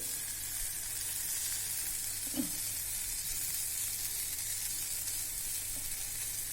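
Roasted green brinjal bharit with coriander sizzles in a pan, a steady, gentle frying hiss with one brief scrape of stirring, heard alone.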